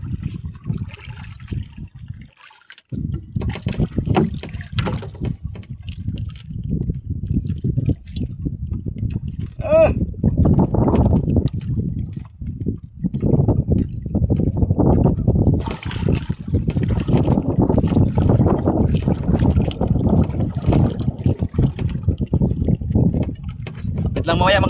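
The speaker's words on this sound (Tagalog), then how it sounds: "Lakas na yung hangin." Strong wind buffets the open water while a canoe is paddled, a steady broad rush of gusts and water noise filling the whole stretch, with a voice speaking over it.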